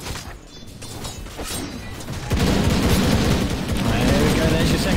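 Rocket Barrage fires in a Dota 2 match as a rapid, dense volley of explosive bursts that swells loudly partway through, with a commentator's voice over the game action.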